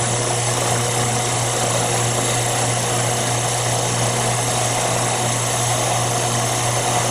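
An Amermac 711 tire truer machine cuts high spots off a tire, giving a loud, continuous mechanical drone with steady hum and broadband grinding noise throughout, no talking.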